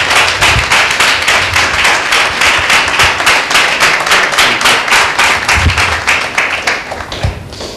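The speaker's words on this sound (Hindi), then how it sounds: "एक जोरदार ताली देते हैं परमेश्वर की महिमा के लिए" Church congregation at a Sunday meeting clapping loudly in a fast, steady rhythm of sharp claps that carries on for several seconds before thinning out near the end.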